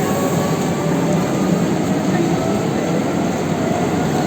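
An IC Cracovia train rolling in at a platform of Kraków Główny station, a steady broadband rumble of wheels and rail noise holding at a constant loud level throughout, with no talk.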